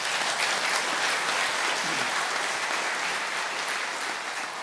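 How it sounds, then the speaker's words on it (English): Conference audience at a network operators' meeting applauding a speaker, steady crowded clapping that holds at an even level before easing slightly at the close. "if you have applause for Ondřej, you can do it now"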